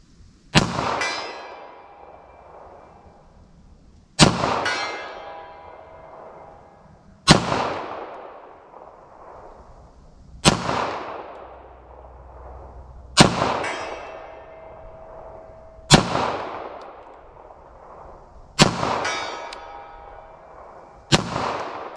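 Seven loud, sharp 9mm +P pistol shots with Federal HST 147 grain rounds each ring a steel target with a metallic clang. They fall at steady intervals of about three seconds, and each ring decays slowly.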